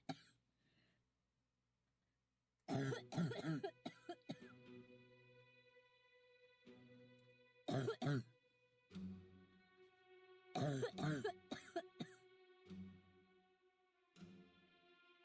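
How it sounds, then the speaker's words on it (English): Character in the visual novel game RAM Hydrangea coughing and clearing the throat in several loud, harsh bursts separated by pauses, over a quiet sustained musical background. "A sudden onslaught of coughs echoed through the room, each one more intense than the last."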